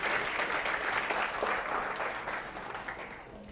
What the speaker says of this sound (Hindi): तालियां बजाओ, आवाज आनी चाहिए